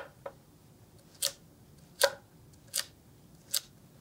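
Knife blade chops through a carrot on a cutting board, giving five sharp, separate thuds spaced about a second apart, close and fairly quiet against a hushed kitchen.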